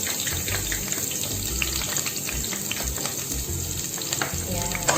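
Ginger frying in hot cooking oil, a continuous bright sizzle with scattered pops and crackles up close, steady in level from start to finish, no speech.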